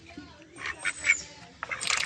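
Ducks of two colours feeding, giving a few nasal quacks and honking calls close by, followed by a burst of rustling and splashing noise, with no clear talk.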